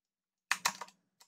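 A few quiet computer keyboard keystrokes, a quick cluster of three or four clicks from a copy-paste shortcut and Enter press, then two faint taps, in an otherwise silent room.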